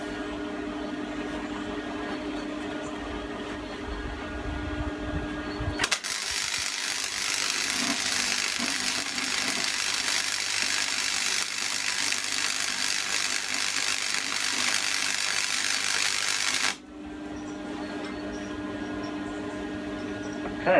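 Practice welding with a welding gun on a Fiat 500 during restoration: a steady, loud crackling buzz starts abruptly and runs unbroken for about eleven seconds, then cuts off sharply, with quieter workshop noise before and after.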